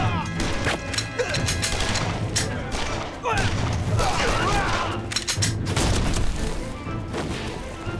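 Gunfire in a battle scene from a Republican-era Chinese period drama, with dense overlapping shots, cracks and booms over a rumbling background and shouting voices mixed throughout.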